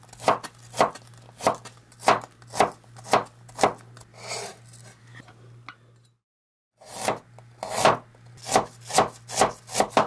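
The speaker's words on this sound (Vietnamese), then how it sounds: "2/3 thì mình xắt mỏng. Xong rồi mình xắt sợi ha." A knife taps sharply on a cutting board in a steady rhythm, slicing ginger into thin strips, pausing briefly before the chopping resumes, close and clear.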